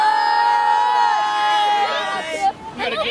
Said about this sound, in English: We got a good crowd here watching us go.